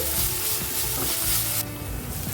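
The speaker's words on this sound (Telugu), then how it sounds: "వామాకుని ఇలా ఆయిల్లో ఫ్రై చేసుకోవాలండి" Ajwain leaves fry in hot oil with a dense, continuous sizzle and spatter close by, which eases slightly near the end, with no voices.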